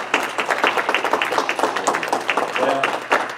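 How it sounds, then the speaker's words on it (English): Church congregation claps hands in praise during a sermon, a brisk, fairly even run of sharp handclaps with faint voices beneath. "Give the Lord a hand clap of praise."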